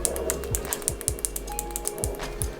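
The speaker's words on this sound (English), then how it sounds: "button clicking motion" PCB button on a DIY Kylo Ren inspired lightsaber hilt FX kit, clicked repeatedly in quick succession, sharp close mechanical ticks over a steady low hum.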